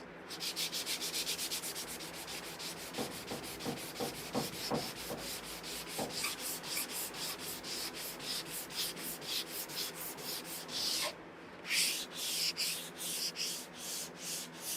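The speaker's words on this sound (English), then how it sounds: "Just when we thought we were done with the sanding" Steady, rhythmic back-and-forth sanding strokes on a Camaro car body, close and continuous, with a brief pause before the scraping resumes.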